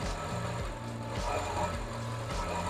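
Mercedes engine fitted with a Weistec kit idles at a garage, a steady low rumble with a faint periodic pulse that runs throughout.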